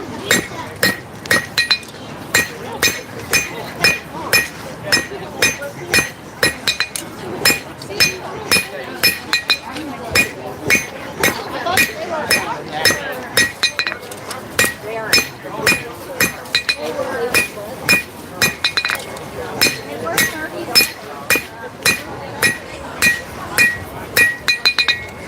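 A blacksmith hammers metal at a live forging demo at a local farmers market, with sharp ringing clinks repeating at a steady rhythm of about one or two per second, close and loud, while people talk between the strikes.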